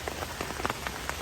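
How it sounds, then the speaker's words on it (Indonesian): Light, cold morning drizzle on Mount Salak, falling as soft patter with scattered distinct drops on a surface at a steady quiet level, with no voices. "Dingin, hujan rintik-rintik walaupun nggak terlalu deras banget"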